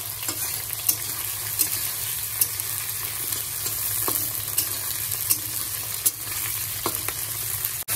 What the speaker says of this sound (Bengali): প্রথমে আমি আলুটা ভেজে নেবো